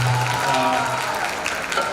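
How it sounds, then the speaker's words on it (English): At a school silver jubilee celebration, an audience claps under a low sustained tone and faint voices, with steady, moderately loud applause throughout. "Round of applause, guys, come on!"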